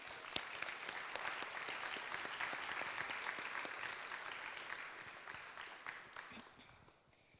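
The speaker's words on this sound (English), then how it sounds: "Can we also give her a big round of applause?" A room of graduates and guests at a pharmacy technician graduation claps steadily for an honoree receiving a gift, with dense applause that thins and fades toward the end.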